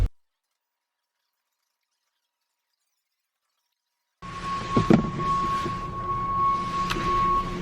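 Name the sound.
snowplow passing outside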